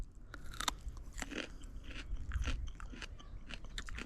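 Crisp, crunchy bites and chewing on a raw wild onion freshly foraged in Texas, several close crunches in an uneven rhythm with no talking.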